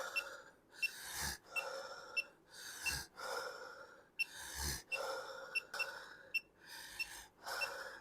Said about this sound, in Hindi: तो अब मैं साँस तेज़-तेज़ लूँगा